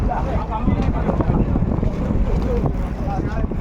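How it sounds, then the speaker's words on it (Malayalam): A large fishing boat's engine drones as it approaches, amid heavy wind buffeting the microphone, with water noise and voices underneath. "അതിൻ്റെ കൂട്ടു ബോട്ടായ വലിയ ബോട്ടാണ് ഇതാ ഈ വരുന്നത്"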